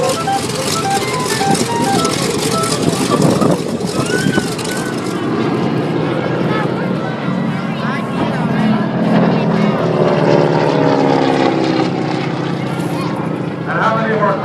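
Two propeller warplanes, a Kate and a Harvard, pass from left to right across the runway at a Paulding County airshow, a loud sustained engine drone that fills the whole span with a commentator talking over it.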